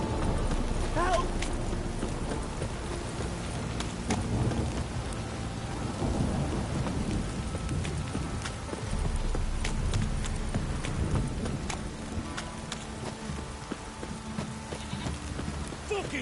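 Steady rain and rolling thunder fill a stormy scene in the video game The Witcher 3, with horse hooves clopping through the downpour and occasional muffled vocal sounds underneath.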